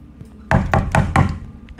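Four heavy, evenly spaced knocks on a door in the horror video game Under, loud and close after a quiet start, followed by fainter trailing sounds.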